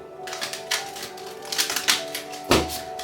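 Quick papery taps and riffles in short bursts, like cards being shuffled close by, fairly quiet with a low hum behind.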